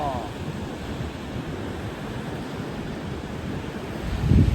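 Pacific Ocean surf and wind on the Oregon coast, a steady washing roar with wind buffeting the microphone and a swell of water near the end, no talking.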